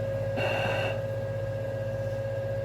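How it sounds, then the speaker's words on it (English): A brief burst of hissing compressor air release from an LGB 2140 GE 6/6 I Krokodil model train with ESU sound, about half a second long, over a steady electrical hum. "We have a compressor air let off on F9."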